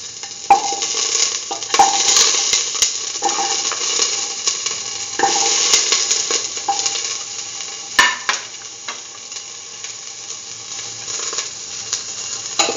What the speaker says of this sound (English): Saute the shallots till they lose